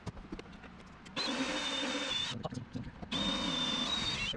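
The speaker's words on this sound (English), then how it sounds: "let's match drill one of these guys" A power drill match-drills aluminum parts of a Zenith 750 Cruzer airplane kit, two sustained whining bursts of about a second each, separated by a short pause, close and fairly loud.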